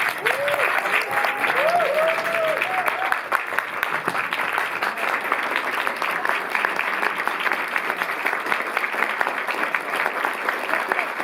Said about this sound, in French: Applaudissez-le, c'est la dernière fois, avant longtemps.